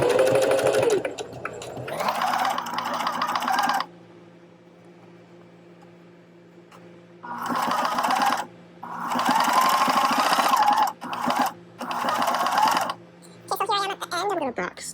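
A sewing machine stitches the layers of a fabric face mask in bursts, with a short backstitch run, loud and close, separated by pauses. A voice talks between some of the runs.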